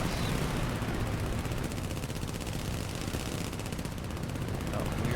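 Twin nose machine guns of a Gloster Gladiator biplane fire in sustained, rapid bursts in War Thunder, a dense continuous rattle over engine drone with a voice talking underneath.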